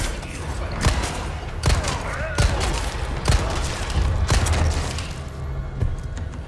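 Gunfire in Resident Evil 4 Remake, chainsaw demo: several loud, sharp shots spaced about a second apart over a dense, rumbling game soundscape, with a voice briefly heard.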